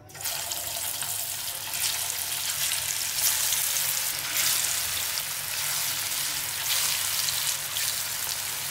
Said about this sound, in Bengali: এখন সুন্দর করে ভেজে নিলেই একদম পুরোপুরি টিকিয়া রেডি